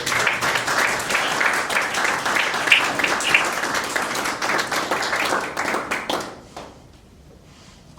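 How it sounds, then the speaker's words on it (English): Dense applause from an awards ceremony audience, steady for several seconds, then quickly fading out to near silence. "please give them a round of applause for their first."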